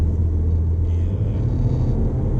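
A deep, steady engine rumble from inside a 2019 Seat Ateca FR accelerating in sport mode, a low droning growl holding fairly constant with no talking.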